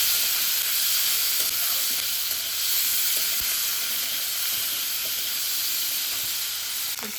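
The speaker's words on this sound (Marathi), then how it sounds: "कढीपत्ता, ढोबळी मिरची चांगली परतवून घ्यायची." Curry leaves and bell pepper sauté in hot oil for a mixed vegetable bhaji, a loud, even sizzle and steamy hiss throughout with occasional faint clicks of stirring, close and without speech.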